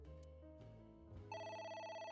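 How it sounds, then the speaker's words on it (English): A phone rings in the game AI: The Somnium Files, with a bright electronic ringtone starting partway in and repeating steadily over low background music. "A phone. Should I pick it up?"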